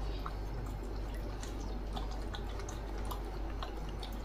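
A small pet dog, a Siberian Husky, lapping water from a bowl, faint wet licks and drips over a steady low background hum, with no one talking.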